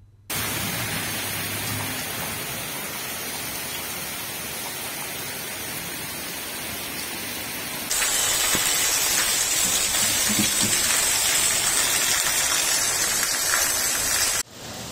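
Steady, continuous rain on a Saturday morning, a dense hiss of downpour that holds evenly and grows louder and brighter partway through, with no voices.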